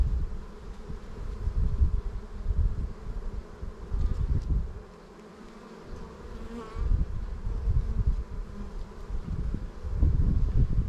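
Honey bees swarming around an open hive during an inspection, a continuous close buzzing drone with swelling and fading wingbeats and a short quieter dip midway.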